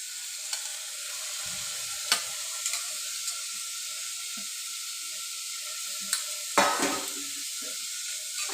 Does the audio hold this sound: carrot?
yes